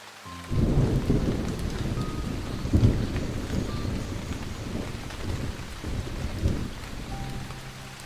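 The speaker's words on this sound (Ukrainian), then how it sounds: "Врешті гроза наздогнала їх, та перші холодні каплю дощу падали на наших героїв." A thunderstorm with steady rain pours down while rolling rumbles of thunder swell and fade, one louder clap standing out near the start; no voices are heard.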